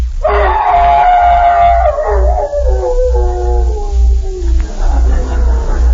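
A man imitates a hound's howl for a 1939 radio comedy, holding one long, loud wavering note that slides downward, then breaks off and rises again, over a pulsing low hum.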